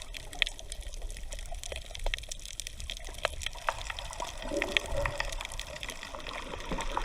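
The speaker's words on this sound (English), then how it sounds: "Always surprises me just how noisy it is underwater. These little fish and whatever's bouncing on the reef certainly makes a noise." Underwater on a coral reef at Coral Bay, fish and reef life make a faint, constant field of crackling clicks and pops over a low watery rush, with no voices.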